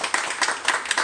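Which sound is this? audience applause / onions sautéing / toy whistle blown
audience applause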